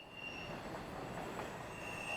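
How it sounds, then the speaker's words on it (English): Canadian National locomotives haul a train around a curve, wheels squealing in piercing sustained high tones over a continuous rolling rumble, loud and unbroken. "the wheel squeal was almost deafening"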